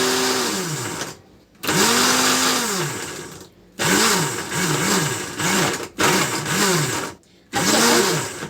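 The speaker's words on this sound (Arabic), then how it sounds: "نشغل الخلاط" A kitchen blender runs in repeated bursts, chopping tomatoes, onion, peppers and spices for a honey-molasses grilled chicken marinade, its loud motor whine rising and falling between short silent pauses as it is switched on and off.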